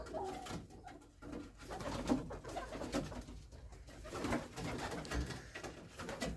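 Pigeons cooing repeatedly at close range, soft throaty calls rolling over one another with faint rustling in the background.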